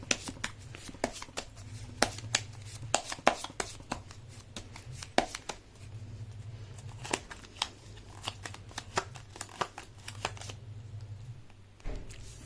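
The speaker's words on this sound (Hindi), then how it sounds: "कर लेती हूँ कार्ड की शफलिंग" Tarot cards being shuffled by hand, a steady run of crisp riffling flicks and slaps with a low hum underneath, close and fairly quiet, with no talking.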